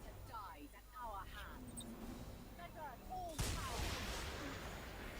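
Boarding torpedoes launch in the Battlefleet Gothic Armada space battle game, a loud booming burst over continuous roaring combat noise, while voices speak over the action.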